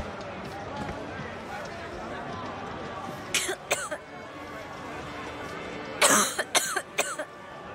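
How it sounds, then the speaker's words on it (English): A video game character coughing near a smoker, two short clusters of harsh coughs several seconds apart, heard over a background of game sound and murmuring. "she coughs when you're near a smoker"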